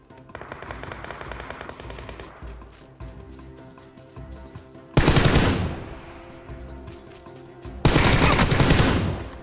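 Automatic gunfire crackles in a shooter video game, starting as a rapid run of shots, then two loud, dense bursts of rattling fire, each lasting a couple of seconds, with no voices over them.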